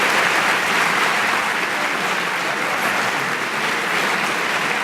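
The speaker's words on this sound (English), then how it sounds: "Could you give all of these people who have worked so hard on this a big round of applause?" Loud, dense applause fills the hall at a high school honors ceremony, many hands clapping in a continuous roar that holds at a steady level throughout.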